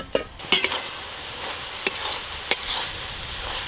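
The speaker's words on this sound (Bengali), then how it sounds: "চাপা খুলে একবার ভালো করে নেড়ে নেব।" Water spinach frying in a pan is turned over, giving a soft sizzle with several distinct clacks of a spatula hitting the pan, close and unaccompanied by speech.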